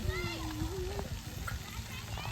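Water splashes and sloshes steadily at an outdoor splash pad where children are playing, heard as a constant wash of spray under children's voices and nearby talk.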